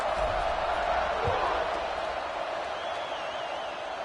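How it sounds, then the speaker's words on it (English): A stadium crowd at a Week 0 college football game between Alabama and USC keeps up a steady, dense roar of cheering and murmur, while a commentator talks over it. "this crowd is buzzing after that last score"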